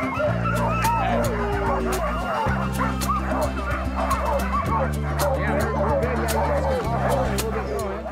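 Sled dogs at a mushing kennel in Talkeetna, Alaska, bark, yip and whimper continuously in an excited chorus, near and loud, over a steady low hum.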